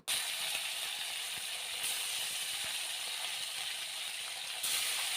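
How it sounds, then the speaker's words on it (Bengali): Fish pieces for bata macher jhol frying in hot oil in a kadai give a loud, continuous close sizzle with faint scattered crackles and taps, steady from start to finish. "এবার এই জায়গায় একটা একটা করে মাছগুলো আমি নিয়ে নিলাম"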